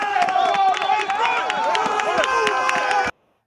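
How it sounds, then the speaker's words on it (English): Street crowd cheering and shouting together at a Chicago confrontation, a dense continuous roar of many voices with overlapping yells, loud and close, cutting off abruptly after three seconds. "they are cheering"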